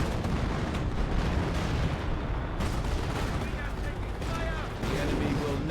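Artillery fire in the Company of Heroes strategy game: dense, continuous rumbling booms and gunfire layered throughout, loud and steady, with a voice commentating over the battle.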